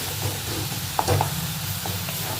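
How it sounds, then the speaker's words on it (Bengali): Spices sautéing in a pan give a steady low sizzle and crackle, with a few brief utensil stirs and scrapes near the middle, fairly faint and close, no talking. "এই মোটামুটি একটু করে মশলাটা কষিয়ে নিচ্ছি"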